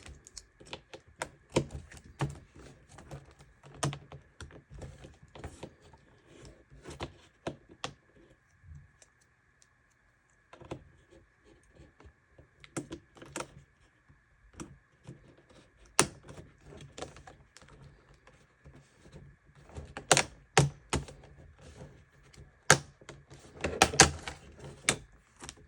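Plastic pry tool working an HP 640 G3 laptop keyboard loose from an upturned chassis, giving close, irregular clicks and snaps in scattered bursts with brief quiet gaps and a denser flurry toward the end.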